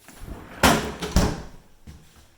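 A freezer drawer at the bottom of a kitchen refrigerator slides and shuts, giving two close, firm thumps in quick succession and then a softer knock, with no talking.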